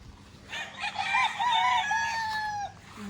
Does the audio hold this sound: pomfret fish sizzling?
no